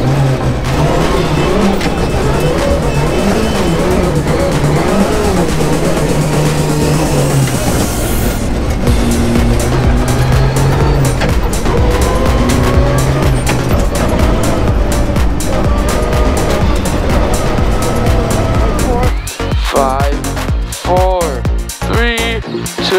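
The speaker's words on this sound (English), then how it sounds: "I'm driving literally on ice." A rally car runs flat out on an icy stage at a Sno*Drift rally event, engine roaring and shifting through revs with loud, continuous in-car noise, then choppier bursts near the end.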